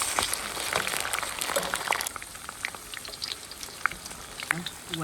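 Pork trotters stir-fried in a pot over high heat for a cheap pig's-foot rice dish, giving a steady sizzling and bubbling hiss with scattered crackles and spatters, louder early then easing, with faint voices near the end.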